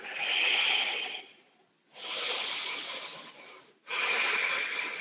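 Slow, steady yoga breathing in a warrior 3 balance pose: three long broadband breaths, each a couple of seconds, with brief quiet gaps between them, close and fairly loud with no talk.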